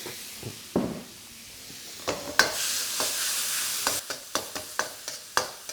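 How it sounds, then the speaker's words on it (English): Garlic and galangal paste fries in hot oil, hissing steadily as the spoon stirs and scrapes, with repeated sharp taps against the pan and no voices. "You want to fry this paste through for a good sort of 2 to 3 minutes"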